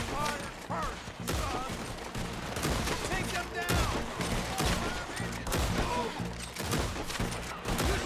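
Rapid, repeated gunfire from a Red Dead Redemption 2 shootout, with sharp shots and a fusillade of overlapping bursts throughout, loud and close, with game voices faintly underneath.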